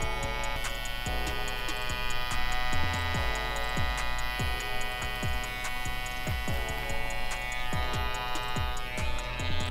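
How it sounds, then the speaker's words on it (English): An electric hair outliner trimmer runs close up while tidying the edge of a mustache around the lip. It gives a steady, loud buzzing hum, with regular light ticking pulses throughout. "You get your outliner, turn it on, and you just hit right around the lip"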